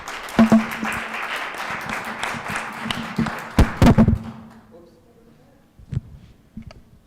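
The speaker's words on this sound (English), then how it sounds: "Let's give them all a big round of applause." Audience applause fills a village council public meeting, a dense clapping wash for about four seconds that fades into scattered thumps and handling noises, with a voice speaking briefly near the end.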